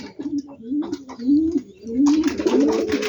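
Pigeons coo repeatedly nearby, low throaty calls in a steady run, with some rustling noise toward the end.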